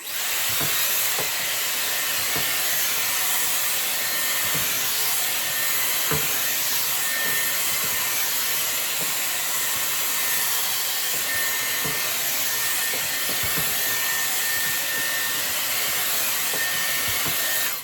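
A Dyson Airwrap hair styler curls hair, giving a constant loud rush of blowing air close by, steady throughout with faint handling taps underneath.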